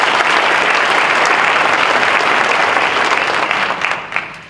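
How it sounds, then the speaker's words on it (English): A school board meeting audience gives a teacher a dense, steady round of applause, loud and even throughout, tapering slightly in the final half second. "let's give her a round of applause"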